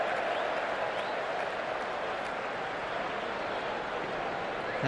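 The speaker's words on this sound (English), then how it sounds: "Raucous, cheering every run, every wide." Crowd at an Ashes cricket Test match, a steady, dense roar of distant applause and cheering filling the whole stretch without a break, broad and even in loudness.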